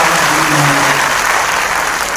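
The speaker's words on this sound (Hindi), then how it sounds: "एक बार जोरदार तालियों के साथ सभी क्रांतिकारी साथियों का" Loud, close crowd applause at a Nishad Party foundation day gathering, a dense and continuous wash of clapping throughout with no talk over it.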